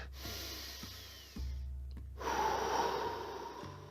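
Deep breaths drawn in and let out during a guided meditation exercise within a talk on shamanism, a few slow, close airy inhales and exhales with no talking.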